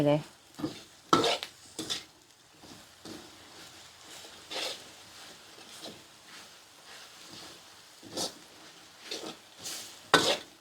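Sugar caramelizing in a pan for braised pork leg gives a quiet low hiss broken by repeated scraping strokes and clinks of a utensil against the pan, spaced irregularly and fairly close.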